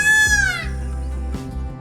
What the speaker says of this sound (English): Peacocks sound just like cats, but even louder.